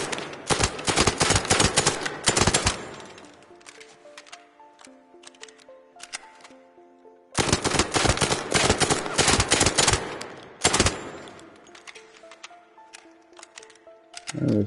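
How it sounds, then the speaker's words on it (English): Gun bursts in the video game Arc Raiders: two long, loud clusters of rapid automatic fire separated by quieter stretches, with short trailing bursts and faint ringing tones in the gaps. "Even burst firing, the recoil goes on."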